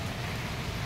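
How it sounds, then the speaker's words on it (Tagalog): Steady rain hisses down close by, a dense, even wash of falling water with no voices. "So tuloy-tuloy pa rin ang ulan"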